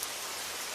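Steady rain falls on a surface, a dense, even hiss that stays constant throughout with no voices or breaks.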